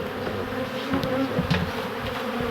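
A swarm of honey bees hums and buzzes in a dense, continuous drone close by while it is gathered up, steady throughout and with no voices.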